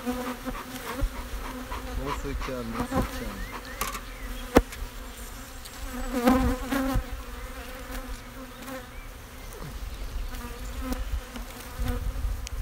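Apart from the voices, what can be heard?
honey bees buzzing at the hive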